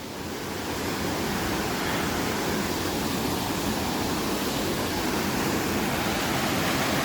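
Water flowing down a mountainside near Lake Mainit, a dense, steady rushing roar like a small waterfall, loud and continuous with no voices.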